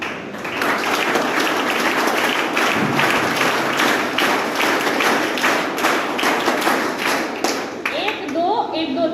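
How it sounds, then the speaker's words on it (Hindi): NCC cadets at a certificate distribution ceremony clap together loudly, a dense, sustained burst of applause with a steady, rapid pulse running through it for several seconds. "एक बार जोरदार ताली एनसीसी में भी ताली बजाने का तरीका होता है।"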